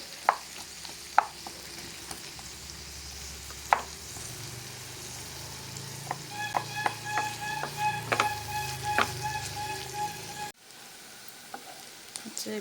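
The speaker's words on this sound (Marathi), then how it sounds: "हांव सो मातशी फ्राय करून घाता पियाव." Onions frying in a pan for a Goan pork dish, a continuous sizzle with intermittent metallic clinks and scrapes from stirring, close, the sizzle dropping away near the end, no talking.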